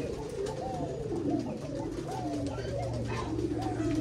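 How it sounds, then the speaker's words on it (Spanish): Fantail pigeons cooing at a pigeon breeding farm, repeated soft rolling coos from several birds close by over a steady low background murmur. "Ahí hay una paloma colipava"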